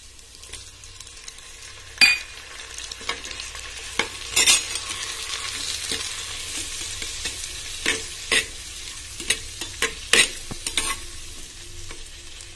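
Ripe tomatoes frying with onions in a clay pot, stirred with a spoon that scrapes and knocks against the pot in irregular bursts over a soft continuous sizzle.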